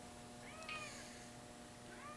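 A cat meows close by, one longer meow followed by a shorter one near the end, over a quiet steady hum with no talking.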